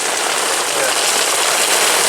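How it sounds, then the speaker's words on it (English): Steady rain keeps falling after hours of downpour, a dense, even hiss of drops pattering on a nearby surface, loud and continuous throughout. "It's been raining for 9 hours"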